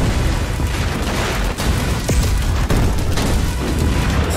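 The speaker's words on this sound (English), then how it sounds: "What an explosion. Everything is destroyed." A huge bomb explosion on an island in GTA 5 rumbles as a loud, sustained roar of boom and debris, dense low rolling noise with a few sharper cracks throughout.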